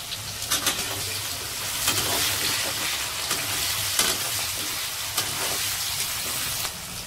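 Onion and garlic frying in hot oil with cumin and bay leaf crackle and sizzle steadily in a pan, with a few clear scraping stirs of a spoon cutting through, close up and without talk.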